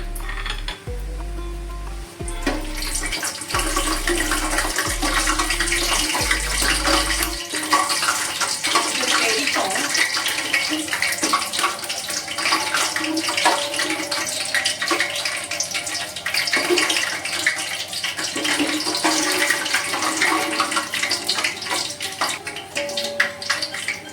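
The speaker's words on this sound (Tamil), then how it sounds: "ஸோ வந்து நம்ம பட்டை, கிராம்பு, ஏலக்காய் எல்லாம் சேர்த்துக்கலாம்." Whole cinnamon, cloves and cardamom sizzle in hot oil for mutton biryani, giving a steady, loud crackling hiss that runs continuously, with a low hum over the first few seconds.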